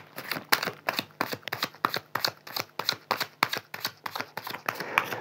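Rider tarot cards are gathered and shuffled close by, a quick, even run of crisp riffling snaps repeating about three or four times a second, quiet and alone.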